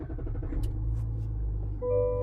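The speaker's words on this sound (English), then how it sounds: "I'm going to hit this very differently shaped engine start-stop button to start up the truck" A 2022 GMC Sierra Denali Ultimate 4x4 diesel pickup starts with a low rumbling engine turnover that settles into a steady idle, then a short electronic chime sounds near the end.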